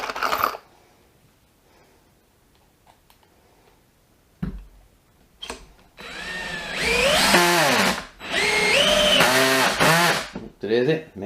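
A power driver sinks 4.5x50 Goldscrew Plus single-thread woodscrews, with its torque set too low for them. It gives several close, loud bursts of rising, whirring motor whine, separated by short pauses and a few clicks.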